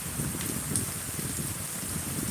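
Rain falling steadily in the eastern part of Miraj, a rural farming area, with a continuous, even hiss of drops on surfaces and no talk.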